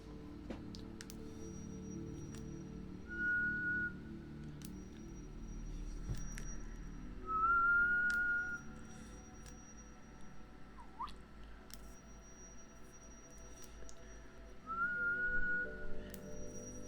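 A whistled tune echoing the Hunger Games signal, a few short rising whistle phrases spaced apart over a faint indoor background hum.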